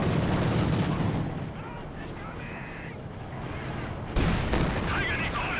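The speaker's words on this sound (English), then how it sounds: "Pretty good walking Stuka barrage there, nearly wipes out the rifleman" A Stuka rocket barrage in Company of Heroes 2 lands as a rolling series of booming blasts and crackling gunfire, with dense explosive bursts that fade mid-way and then surge back loud near the end.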